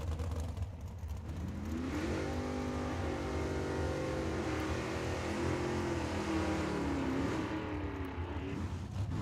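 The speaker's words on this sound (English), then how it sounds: "When he starts the burnout with the Chevelle" A Chevelle drag car does a burnout at Tucson Dragway, with a loud, sustained engine roar that climbs and wavers in pitch as the revs rise and hold, heard from trackside.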